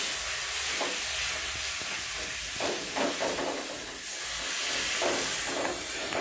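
Madrasi spice is stirred into hot frying oil in a village kitchen, giving a steady, loud sizzling hiss that runs throughout with faint scraping strokes underneath.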